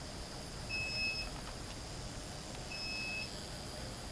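A UPS battery backup beeps after a power outage: two short electronic beeps about two seconds apart, fairly faint over steady room hiss.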